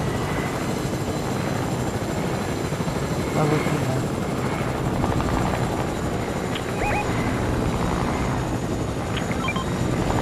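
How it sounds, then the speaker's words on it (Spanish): Steady helicopter rotor drone in Fortnite fills the scene, loud and continuous, with game sounds and scattered talk layered over it. "Helicóptero."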